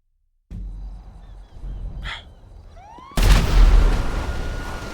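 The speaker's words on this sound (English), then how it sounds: "What exploded?" A Minecraft explosion erupts suddenly, a loud close blast of broad noise that rumbles on for a couple of seconds after quieter in-game sounds.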